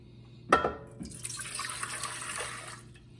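Lukewarm water poured into a bread machine pan for pizza dough, a brief close splashing stream that starts with a sharp hit and runs a few seconds before tapering off.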